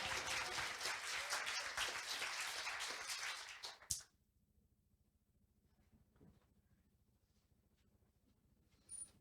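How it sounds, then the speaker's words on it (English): Applause from an audience at a MiniCultureCon conference event, loud and dense for about four seconds, then cut off abruptly into quiet room tone with a faint stir near the end. "Pause for applause."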